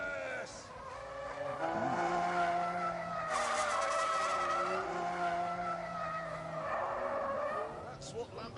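A Lamborghini skids in a racing video game, with engine roar and tire squeal rising and falling over several seconds, while a voice talks and exclaims over it.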